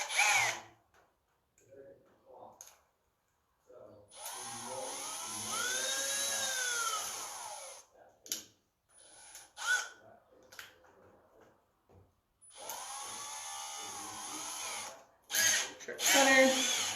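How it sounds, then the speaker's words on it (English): A handheld power drill bores a hole for a DIY chalkboard hanger, whining steadily in two long, close runs with rising and falling pitch and pauses between them, while a person talks quietly in the gaps. "So then I'm gonna grab my drill"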